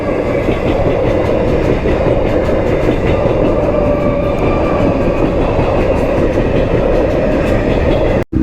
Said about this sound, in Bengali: দেখতে পাচ্ছ অলরেডি ভাই ট্রেন চলে এসছে